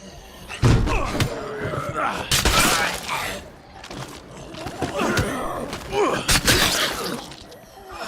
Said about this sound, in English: That one knock on the door,